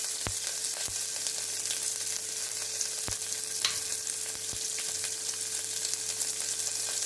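Curry leaves and green chillies fry in hot oil with a steady, even sizzle that stays up close, broken by a few sharp pops and crackles, with no voices.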